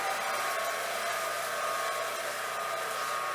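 Juicer motor running while chard is fed through it, a steady whirring drone heard alone at moderate distance with no talk.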